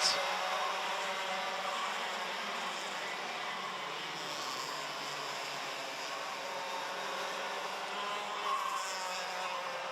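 Kart engines racing around the Ostricourt circuit in a Mini class heat, a continuous high buzzing drone of several karts at moderate distance, steady and unbroken.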